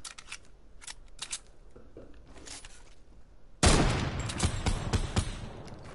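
Fortnite gunfire: scattered distant shots early, then a sudden burst of loud, dense rapid fire close by that continues to the end.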